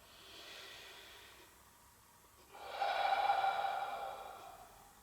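A slow, open-mouthed pilates exhale releases warm air in a soft, breathy rush, swelling in the second half and heard alone at close range.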